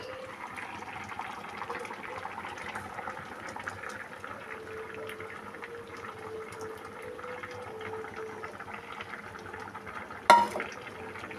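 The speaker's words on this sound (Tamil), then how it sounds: "பருப்பும் சேர்ந்து கொதிக்கட்டும்." A pot of lentil curry bubbles gently at a low simmer, soft steady gurgling throughout, with a single brief clink of a utensil near the end.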